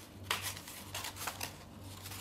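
Scissors snip through coloured craft paper for a multicoloured Diwali lantern, several short crisp cuts in an uneven rhythm, close and quiet with a low steady hum underneath.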